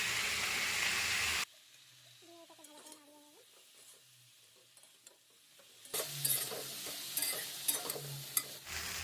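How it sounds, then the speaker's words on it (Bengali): Spices frying in oil in a pan for a Bengali shrimp curry: a loud broadband sizzle with stirring, dropping to a quieter stretch of faint clinks and bird-like chirps before the sizzling and scraping return strongly. "মশলা ভাজা ভাজা হয়ে গেছে"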